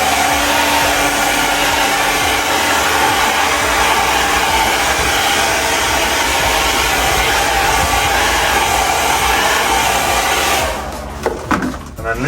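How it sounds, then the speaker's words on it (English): A hair dryer or heat gun blows continuously, close and loud, warming sticky-backed sound-deadening material for a Vauxhall Vivaro camper van conversion, then cuts off near the end with a few handling knocks. "Get your hair dryer or your heat gun out and just give it just soften it up a bit."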